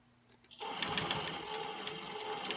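A longarm quilting machine stitches lines guided along a ruler, its motor starting abruptly into a fast, steady mechanical whir with rhythmic needle clatter, close and continuous.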